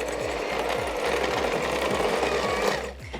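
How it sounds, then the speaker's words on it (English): Electric mixer beating cookie dough for peanut M&M cookies, a loud continuous motor whir with a steady rhythmic thump as the beaters turn through the thick mixture, stopping near the end. "So we're going to mix this up, bring it all together until it starts to go a little bit fluffier."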